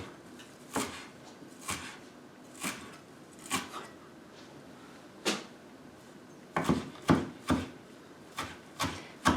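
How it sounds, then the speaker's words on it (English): Parsley chopped finely with a knife on a wooden board for a wartime grated vegetable soup: sharp, close knocks in a loose, irregular rhythm, some quick double taps near the end, with no talk. "Parsley is being chopped finely."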